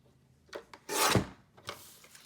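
Paper trimmer blade slicing through a piece of photo mat card, a single loud rasping cut of about half a second, framed by a few quieter sliding and handling noises, with no voices.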